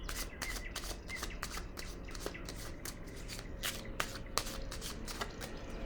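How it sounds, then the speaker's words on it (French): Tarot cards are shuffled and riffled close up in a steady run of crisp flicks and slaps, with no talking over them. "Je vais déposer une carte ici."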